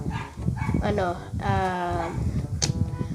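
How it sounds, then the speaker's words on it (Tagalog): Dogs bark and yip repeatedly in the background while a person talks steadily over them. "pasensya na kung may mga naririnig kayong aso sa amin yun"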